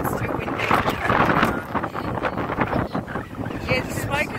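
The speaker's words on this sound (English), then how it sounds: "it's too windy" Strong wind buffets an outdoor microphone on a smoky day near a dormant volcano in Queensland, a steady loud rumble and roar that fills the clip with continuous gusty noise.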